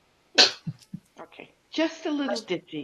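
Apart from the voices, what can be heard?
sneeze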